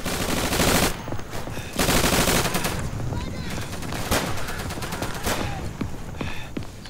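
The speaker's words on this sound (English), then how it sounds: "This is regular bolt action rifle," Rifle fire in the Day of Infamy World War II shooter, with loud, close shots cracking one after another amid heavy, continuous battle gunfire.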